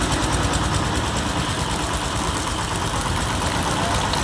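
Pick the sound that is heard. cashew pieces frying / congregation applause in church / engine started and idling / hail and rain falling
engine started and idling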